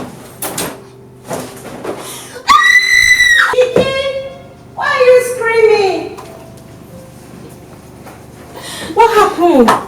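A young woman screams loudly in a staged reality-show acting scene, with long, piercing, sustained screams and anguished wails close by, separated by brief gaps and bangs.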